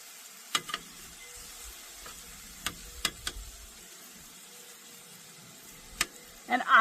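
Pork chop bites frying in a pan give a soft, steady sizzle with scattered sharp pops and clicks, quiet and close, with a louder burst of handling noise at the end.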